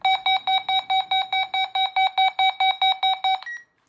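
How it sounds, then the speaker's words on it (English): A weather alert radio in test mode sounds its test beep: a rapid series of about fifteen sharp, loud, evenly spaced electronic tones that stops abruptly, with nothing else heard. "that's the test beep on this radio."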